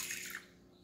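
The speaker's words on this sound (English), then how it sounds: "So I'm gonna go ahead and pour the water in." Water poured into a bowl of popcorn kernels, a brief splashing pour that tapers off within a second, fairly faint.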